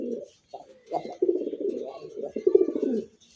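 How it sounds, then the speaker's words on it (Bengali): A Pakistani pigeon puffs out its throat and coos, giving a string of low, throaty, rolling calls close by, pausing briefly before a longer run of cooing. "যে গলাটা ফুলাইতেছে মনে হয় যে পাকিস্তানি একটা কবুতর যে দাঁড়াইতেছে রে ভাই"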